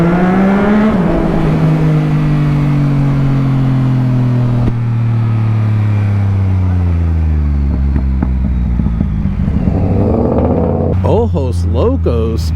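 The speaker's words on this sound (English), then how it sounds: "Tunnel exhaust." Yamaha MT-09 motorcycle exhaust revving inside a tunnel, a loud sustained engine drone with falling and rising pitch sweeps, echoing throughout, with faint speech mixed in.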